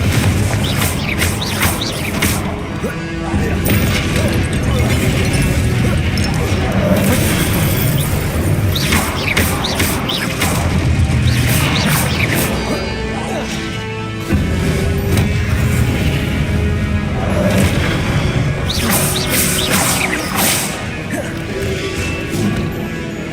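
Spell impacts and explosions in Hogwarts Legacy, a dense, loud barrage of crashes, booms and whacks in rapid succession with barely a pause, game battle noise filling the whole stretch.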